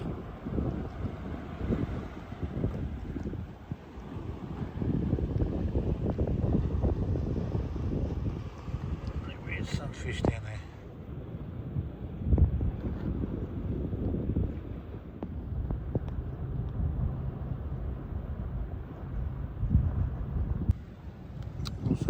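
Strong coastal wind at a rock pool buffets the microphone in a constant low roar with gusty rumbling, loud and close, with no one speaking.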